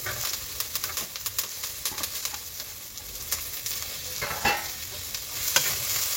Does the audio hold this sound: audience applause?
no